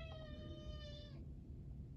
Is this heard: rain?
no